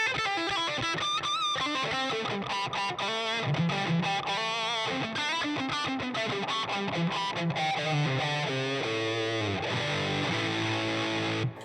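Distorted electric guitar through a Siren Pedals Airavata pedal on a high-gain setting, a busy run of fast riffs and single notes with bright, gritty overtones, loud and continuous, ending on a held chord.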